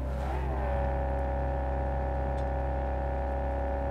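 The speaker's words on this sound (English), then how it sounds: "I'm literally holding the gas right now." Car engine in Cyberpunk 2077 with the gas held down, a steady sustained drone that rises slightly in pitch at the start, then holds a constant loud hum.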